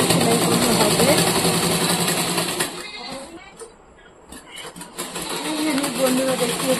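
A sewing machine stitches through unfolded fabric, running loud and steady, dropping away briefly in the middle, then picking back up to a continuous whir.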